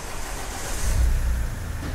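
Mahindra XUV 500 engine running steadily for a test drive after power steering rack work, a low close rumble that swells slightly midway and then settles, with no talk.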